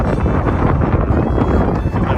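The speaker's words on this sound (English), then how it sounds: "that wind coming through. Hot wind enough." Hot wind gusts over a rocky overlook above a desert ghost town, a loud, steady buffeting roar battering the microphone up close, with no voices.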